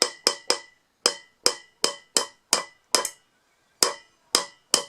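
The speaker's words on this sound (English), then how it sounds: "Only the outside, don't hit the inside. I'm angling the face of the hammer." A hammer strikes the outer race of a rear wheel bearing, driving it into place: a dozen sharp metallic taps, close and fairly loud, in quick groups with one longer pause.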